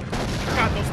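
Gunfire in the video game 007 Agent Under Fire erupts as a dense, loud burst of rapid shots lasting about a second, with no talk.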